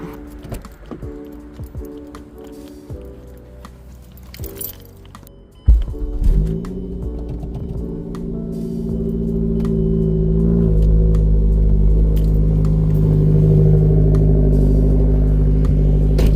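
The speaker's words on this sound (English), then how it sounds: "let's go ahead and start it up" A Mazda 3 with a new starter, lightweight flywheel and replaced transmission and clutch cranks and catches with a loud burst, then settles into a steady close idle that rises gradually into a sustained rev, after rustling and key jingles beforehand.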